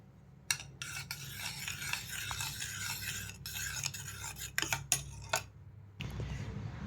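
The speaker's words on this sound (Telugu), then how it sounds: "పాలల్లో రాగి పిండి వేసి కలుపుకుందాం గట్టిగా వచ్చేంతవరకు కలుపుకోవాలి" A spoon stirs ragi flour into milk in a bowl, scraping and clinking steadily with a few sharp taps against the side, close and alone without speech.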